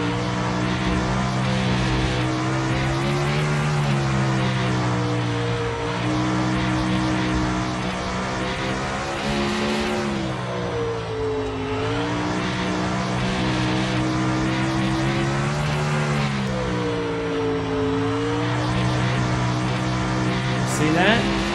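A winged sprint car from iRacing drones loudly at full throttle, a sustained high-revving engine note with brief dips in pitch as it works through turns, under occasional talk.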